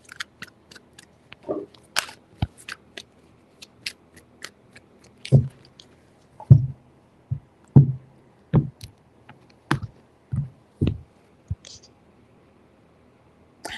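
Irregular papery snaps and soft card riffles, a dozen or so crisp bursts spaced unevenly, close by, with no voices.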